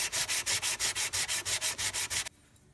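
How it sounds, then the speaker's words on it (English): Rhythmic back-and-forth rasping of 400 grit sandpaper on a vintage one-inch steel chisel, about a dozen even strokes close up, then stopping abruptly into quiet. "sanded it down with sandpaper, taking it down to a 400 grit"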